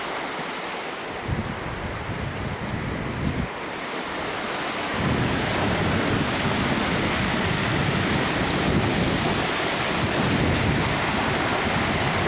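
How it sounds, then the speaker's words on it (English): Waterfall at the top of a fall in Yosemite, a steady broadband roar of rushing water mixed with buffeting wind on the microphone, growing louder and denser after a few seconds and continuing without pause. "This is the top of the waterfall."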